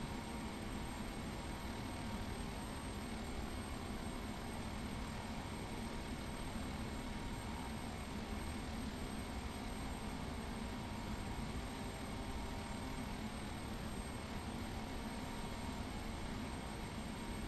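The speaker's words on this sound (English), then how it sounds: "Alright, we are taxiing extremely fast." A King Air 350 taxiing in the FSX flight simulator gives a steady, even turboprop engine drone that holds unchanged throughout, fairly quiet and with no talk.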